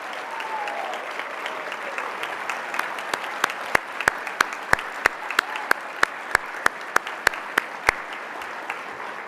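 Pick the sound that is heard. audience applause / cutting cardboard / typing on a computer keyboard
audience applause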